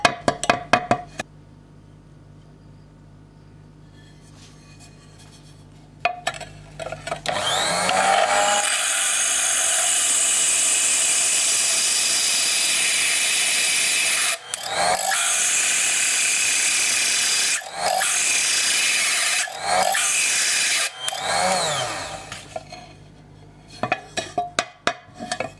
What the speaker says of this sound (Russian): Сверлышко сильно нагревается и, соответственно, стекло.